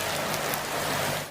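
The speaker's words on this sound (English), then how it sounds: "It came in fast and heavy, pelting rain across a city already saturated" Heavy rain pelting down on a flooded, waterlogged city, a dense, loud, unbroken hiss of drops drumming on surfaces, close and steady throughout.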